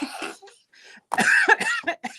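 Several harsh, close coughs in quick bursts, with a short pause partway through before a louder, rougher run of coughing.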